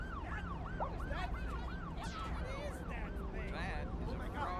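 A wailing ambulance siren from the city-building game Cities Skylines 2 sweeps up and down in steady cycles over a dense bed of traffic and city noise, loud and continuous, with a second overlapping siren tone joining partway through.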